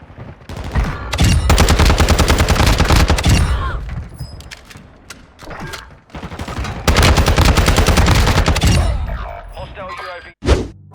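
ISO Hemlock rifle in Warzone 2.0 fires in two long, loud bursts of rapid automatic shots, close and sharp, separated by a quieter stretch with scattered single shots and a final heavy boom.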